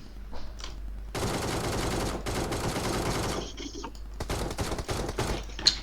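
Rapid automatic gunfire from a recoiling weapon in a video game rattles out in a long sustained burst, then breaks into shorter stuttering volleys and a few separate shots.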